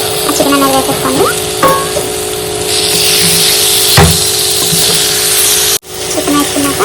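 Marinated chicken drops into onion paste frying in a pot, giving a loud, steady sizzle with scraping stirs and a few clunks of the utensil, and some talk over it.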